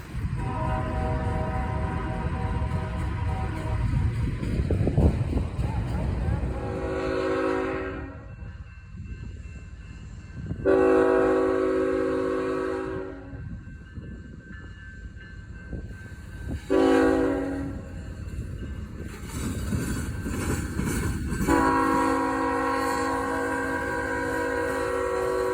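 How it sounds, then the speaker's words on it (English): A rerouted freight train led by a Union Pacific locomotive rumbles past at Fostoria, with heavy continuous rolling and wheel noise and several loud, sustained horn blasts sounding in separate bursts. "This train, as you can tell, was rerouted up the Sandusky district from Norfolk, Virginia and onto the Fostoria district on its way to Roanoke, Indiana."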